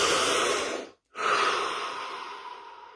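A deep breath taken during a guided relaxation session: a long, close airy inhale, a brief gap, then a sustained breathy release that slowly tapers off.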